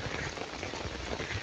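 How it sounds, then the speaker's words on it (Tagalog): Steady rain pattering on a surface by a riverside dike, an even continuous hiss, fairly soft and uninterrupted, with no voices. "Ngayon po at tuloy-tuloy ang ulan."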